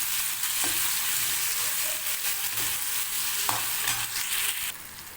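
Mango peel pickle fries with sugar in a pan, a steady loud sizzle with intermittent stirring scrapes and knocks throughout.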